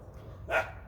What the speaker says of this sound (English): Sorry for the noise, new puppy over there.